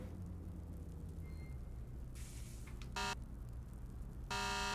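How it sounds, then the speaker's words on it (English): Emergency vehicle horn in the video game Flashing Lights, two short loud blasts over a continuous low engine rumble, with a brief hiss between them. "Oh, that's the horn."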